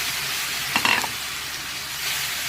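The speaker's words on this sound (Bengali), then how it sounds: "এটা একটু মশলাটা কষিয়ে নিই" Whole spices with ginger and garlic frying in butter alongside browned onion for an egg tadka, a steady soft sizzle with a brief louder stirring burst near the start.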